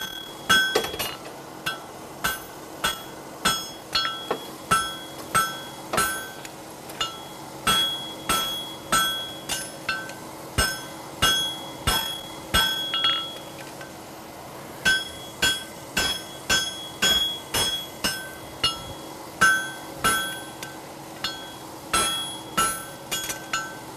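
Hammer striking metal on an anvil in steady rhythmic bursts, dozens of sharp ringing clinks in quick groups with brief pauses between, close and clear with no talking.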